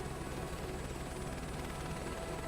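A helicopter in Microsoft Flight Simulator 2024, heard as a steady, dense rotor and engine drone that stays at even loudness throughout.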